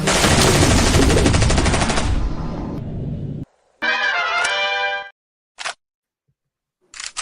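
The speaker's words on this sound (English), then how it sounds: "Nice touch with the gunshot" A loud, dense burst of rapid gunfire sound effect rattles for a few seconds, then fades and gives way to short clicky bursts separated by silence.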